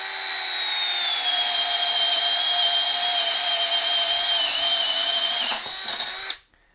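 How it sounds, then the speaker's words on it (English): A brushed-motor Hercules or Ridgid cordless drill boring with a 3/4 inch speed bit on low speed, producing a loud, steady high-pitched whine close up that runs several seconds before winding down abruptly at the end. "It's got that brushed motor, high-pitched whine going on."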